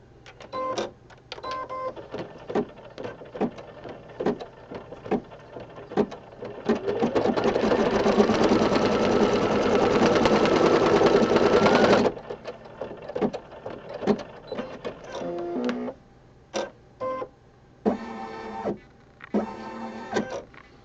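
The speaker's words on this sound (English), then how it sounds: "jump over to the other side on the fabric number 8 and run a placement stitch" An embroidery machine stitching a placement line on fabric in a hoop: quick rhythmic clicks and short whirring bursts, then a steady, louder sewing hum for several seconds before stopping and resuming in short runs.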